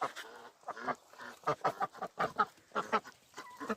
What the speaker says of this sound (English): Chickens and ducks.